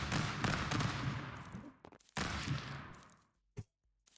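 AK burst rifle in the Stick Fight video game, loud sustained bursts of rapid automatic fire in two long strings, then a lone shot and quiet.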